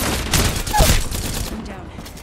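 Rapid gunfire from an Apex Legends match rattles in a dense, loud, continuous burst that lasts the whole short moment, with game noise layered underneath.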